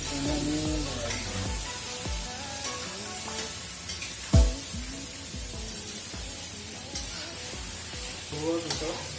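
Pork and masala are stirred in a frying pan for a dry fry, with a soft sizzle under scraping strokes and one sharp clank of the utensil against the pan, while someone talks over it.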